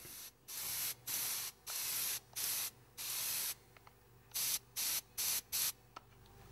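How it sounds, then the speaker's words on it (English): Airbrush spraying matte varnish onto a model locomotive, heard as a string of about eleven short hissing bursts of steady near spray, separated by brief pauses, with no talk. "So I've got my airbrush ready and I'll just give it a go and hopefully that'll protect it."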